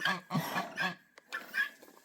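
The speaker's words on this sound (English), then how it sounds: "Yeah, she's a nice dog." A farm dog gives several loud, close barks in quick succession, with a short pause before two more barks.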